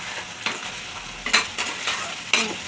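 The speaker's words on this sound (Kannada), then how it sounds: "ಹಾಕ್ಬಿಟ್ಟು ಮಿಕ್ಸ್ ಮಾಡಿ ಚೆನ್ನಾಗಿ" Salt stirred into spicy chicken gravy in a pan, with a handful of distinct scraping strokes over a steady close sizzle and no one talking.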